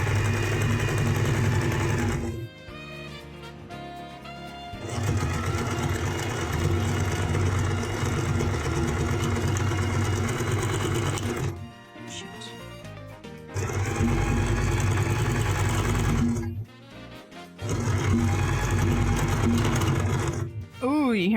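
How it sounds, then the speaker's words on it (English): A sewing machine runs loudly in long rattling bursts while stitching over fabric loops on a costume, stopping briefly between runs, with a strained, uneven stitching sound and occasional quiet talk. "Sewing machine does not like going over the loops."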